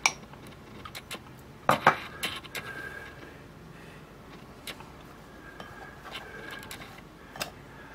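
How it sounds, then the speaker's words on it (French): Flour sifted through a small kitchen strainer into a bowl, heard as scattered light metallic taps and scraping of the mesh, with a brief cluster of sharper clinks early on, fairly faint against a quiet room. "Dans un bol, je vais tamiser ma farine à travers une passoire"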